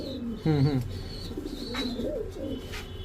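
A female pigeon coos in a low, throaty burst, followed by softer murmuring calls in a quiet indoor space with faint background noise.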